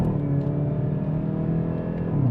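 A 2022 Hyundai i30N Fastback engine holds high revs in a low gear, a steady, loud droning hum that stays close and continuous, with no voices.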